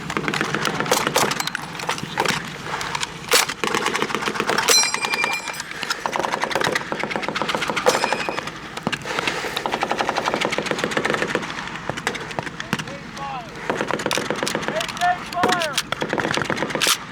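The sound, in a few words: covering gunfire at a WW2 reenactment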